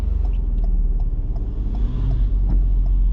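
A car engine pulls away with light throttle during a manual-transmission driving lesson, a steady close rumble with slight rise in pitch, no voices.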